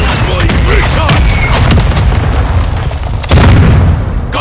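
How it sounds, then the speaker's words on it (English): A stun grenade detonates in a military shooter video game, a loud booming blast with a second heavy burst near the end, amid ongoing gunfire and radio chatter voices. "Stun grenade."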